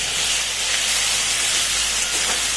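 Grated onion goes into hot oil with cumin in a kadai for an egg masala curry, raising a loud, steady, close hiss of sizzling that fills the whole stretch without pause.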